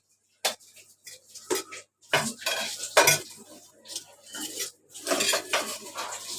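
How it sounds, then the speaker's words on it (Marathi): A metal spatula scrapes and clatters against a griddle as cooked okra is lifted off, with repeated sharp scraping strokes close up and no talking. "ही सगळी भेंडी मी आता काढून घेते।"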